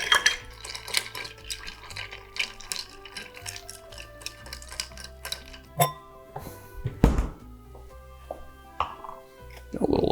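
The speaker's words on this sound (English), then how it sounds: "Give it a stir." Ice clinking and knocking against a glass as a French Manhattan cocktail is stirred, bright close clinks and thunks in an uneven rhythm with a few louder knocks near the end, no talking.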